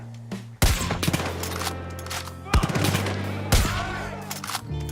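Gunfire in the space shooter game Star Citizen: loud, close shots, three heavy blasts spaced about two seconds apart, each trailing into ringing echoes and a sustained low hum between them.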